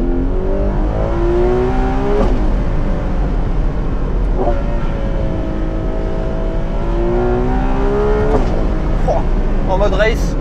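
A Ferrari 12Cilindri Spider V12 in race mode revs up and down repeatedly, with sharp exhaust cracks and pops between pulls over a constant road and wind roar; someone talks over it.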